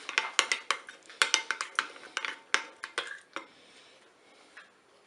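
Chopped onion and basil are being mixed into a salad with a utensil in a bowl, giving a quick series of clinking, scraping strokes that slow and fade toward the end, with no one talking.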